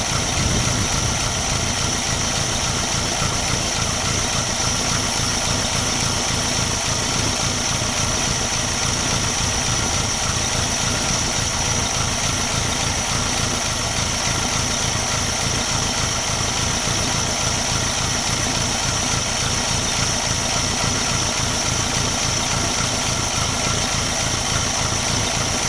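A 1960 Studebaker Lark engine idles steadily and loudly close by, a continuous low rumble with even pulsing and no talk over it.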